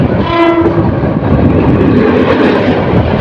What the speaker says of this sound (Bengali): সামনের দিক থেকে আরও একটি ট্রেন আসছে